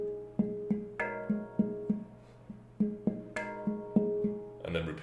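A handpan is struck in a repeating rhythmic pattern, ringing metallic notes with clear attacks and sustained overtones, several beats at a moderate pace, closing with a brief burst of other sound.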